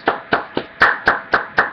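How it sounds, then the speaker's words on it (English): Hands clap seven times in a steady rhythm, sharp and close, with nothing else heard. "giving you claps."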